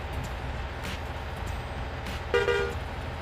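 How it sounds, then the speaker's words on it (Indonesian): A rice-laden truck on a highway gives a short honk of its horn over steady engine and road rumble. "Oke, sudah diklakson."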